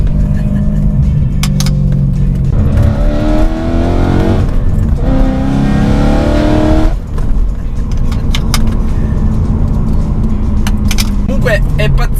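BMW M3 engine running after being repaired, a loud steady car engine hum with rising and falling revs, with a person talking over it for much of the time.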